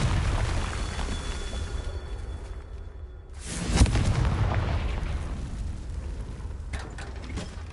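A Confringo fire spell explodes in Hogwarts Legacy, a single sharp, loud blast midway that follows a brief lull and decays into a rumbling tail over steady game background noise.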